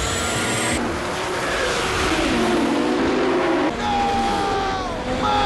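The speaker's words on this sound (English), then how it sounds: "Cobra then flicks the nitrous oxide in his car." A car engine roars at high revs as nitrous oxide kicks in during a street chase, a loud sustained engine whine with pitch sweeps, layered over music and sound effects.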